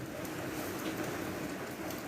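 Rain falls in a steady, dense hiss with faint pattering, continuous and even throughout, with no voices heard.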